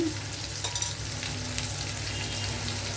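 Potatoes and tomato fry in a hot pan, a dense continuous sizzle up close with occasional scraping and stirring sounds mixed in, no voices.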